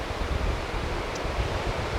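River water pouring over a dam at a small-town Kansas city park, a steady broadband rush that holds evenly throughout, dense in the low end and fairly close, with no voices.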